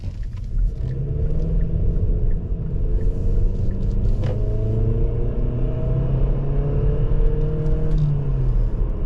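A 2019 Kia Optima SXL engine revs hard under steady acceleration while driving, a loud continuous rumbling drone with rising and falling pitch sweeps as it winds out through the gears, heard from inside the car with no talking.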